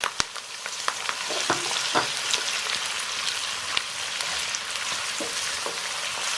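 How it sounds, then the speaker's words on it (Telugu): Chopped onions fry with chicken liver and gizzard in hot oil with green chillies and curry leaves, street style, giving a steady loud sizzle with scattered pops and scraping stir clicks throughout. "ఈ ఆనియన్స్ బాగా బ్రౌన్ కలర్ వచ్చే వరకు వేయించుకుందాం."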